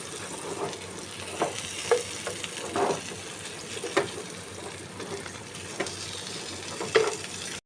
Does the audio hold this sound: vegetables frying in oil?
yes